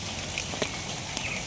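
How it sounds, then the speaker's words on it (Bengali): Rain falls steadily on a rainy day at home, making a constant, even hiss with a few soft drop taps standing out. "আজকে বৃষ্টির দিন আছেন"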